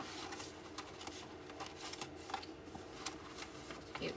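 A paper file folder insert for a junk journal being folded up, giving soft papery rustles and crinkles close by, with a few crisp creases near the end and no talking.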